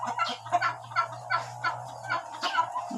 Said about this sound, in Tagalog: Maraming pabo.